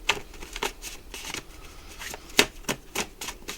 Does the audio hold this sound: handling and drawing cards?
yes